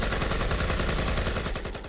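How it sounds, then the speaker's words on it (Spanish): Rapid bursts of gunfire crackle continuously, dense overlapping shots like a volley, loud and close, tapering slightly at the end. "una barricada de soldados preparados abrió fuego contra mí"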